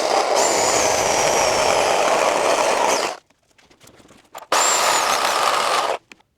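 A power tool whirs loudly as it cuts a rubber bump stop bushing on a Mazda B-Series pickup, running in two bursts of about three and one and a half seconds separated by a quiet pause.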